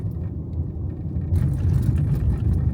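A car approaches along a road in the UK countryside. It is heard as a steady low rumble and whir that swells noticeably louder partway through as it draws near.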